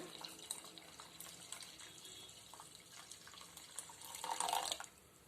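Water pours steadily into a pot of ridge gourd rasam with a soft splashing stream, faint and close, building slightly louder before stopping.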